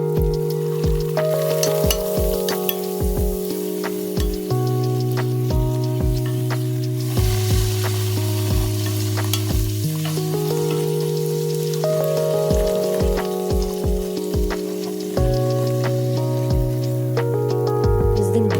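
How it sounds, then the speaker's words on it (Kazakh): Rounds of shelpek dough fry in fully heated oil in a pan, a continuous soft crackling sizzle running under a loud, melodic music track for the whole stretch. "табаға майды толықтай қыздырған соң, екі жағын алтын түстес етіп, қызартып пісіреміз"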